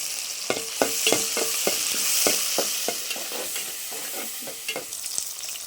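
Curry leaves and green chillies fry in hot oil with a steady bright sizzle, broken by regular scraping taps of a spoon stirring the pan.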